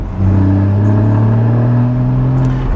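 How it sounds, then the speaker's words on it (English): A Porsche Boxster GTS flat-six engine with no petrol particulate filter, deep, steady drone with strong low harmonics, loud and close, a sporty rev sustained without any talking. "we've got that classic Porsche flat six sound"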